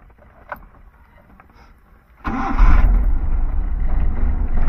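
An engine on a 1991 Suzuki Carry pickup catches after a quiet lead-in, jumping suddenly into a loud, steady low idle rumble that continues to the end, with no voices.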